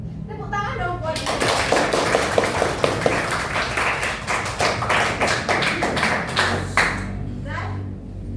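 Classroom applause for a student presentation, several seconds of brisk, close hand clapping from a group, rising quickly and tapering off near the end, with children's voices chattering throughout.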